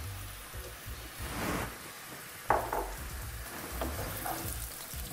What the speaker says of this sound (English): Potatoes are cooking nicely